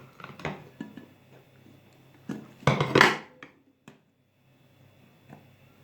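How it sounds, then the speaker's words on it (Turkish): A cooking pot of stuffed grape leaves is covered with a large serving plate and flipped over, heard as clinks and knocks of dishware with a louder clattering handling burst in the middle, then quiet. "Şimdi tenceremizin üzerine büyük geniş bir tabak kapatalım ve ters çevirip bu şekilde sunmaya çalışalım."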